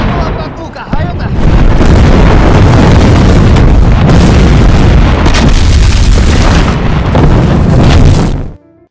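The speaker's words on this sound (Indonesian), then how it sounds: "Kini serangan artileri yang diluncurkan lebih tepat sasaran." Heavy, continuous artillery barrage in a war film about German Nazi tanks attacking Soviet soldiers, with loud booming explosions rolling together for about eight seconds before cutting off abruptly.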